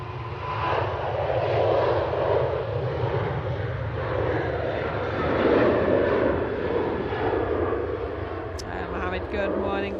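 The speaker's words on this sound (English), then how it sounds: "Ryanair 737 to Venice." A Ryanair Boeing 737 bound for Venice taking off at Manchester Airport, a loud, steady engine roar with rumbling low end that persists throughout, faintly shifting as it climbs away, with a brief voice near the end.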